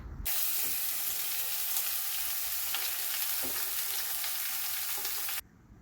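Chopped vegetables tossed into hot oil with browned dal in a Kerala kitchen, bursting into a loud, dense, continuous sizzle with stirring scrapes that starts abruptly and cuts off sharply near the end.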